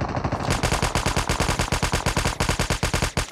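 Rapid automatic gunfire from a gun in the shooter game Call of Duty Mobile, a steady rattling burst of closely spaced shots running continuously and loudly throughout.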